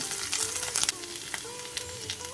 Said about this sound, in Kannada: ಎಣ್ಣೆ ಬಿಸಿ ಆಗ್ತಾ ಇದ್ದಾಗ ಫಸ್ಟಿಗೆ ಶುಂಠಿ ಬೆಳ್ಳುಳ್ಳಿ ಇದನ್ನೊಂದು ಮೂವತ್ತು ಸೆಕೆಂಡ್ ಫ್ರೈ ಮಾಡ್ಕೊಳ್ಬೇಕು